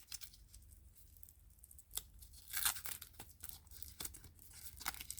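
Wrapping material being peeled and torn from boxed Coach leather accessories, heard up close as continuous crinkling and ripping with sharper tearing bursts, no talk.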